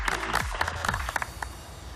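Short burst of audience applause for a presenter on a competition show, fairly quiet and scattered, with a few distinct claps rising out of a low murmur.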